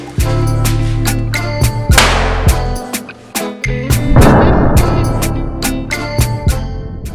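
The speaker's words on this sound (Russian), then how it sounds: "Такая петарда не смогла разделить два плейта размерами 4 на 2." A firecracker bursts on two joined 4x2 LEGO plates, giving a series of sharp, loud pops and cracks with a rumbling blast near the middle, all at close range and with no voices.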